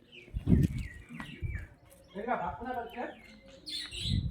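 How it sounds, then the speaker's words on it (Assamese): Pet birds kept at a house give scattered high chirps and tweets, faint and somewhat distant, mixed with low voices and background noise. "এইটো চৰাই পুহি থৈছে তেওঁলোকে।"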